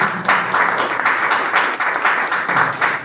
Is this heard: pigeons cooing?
no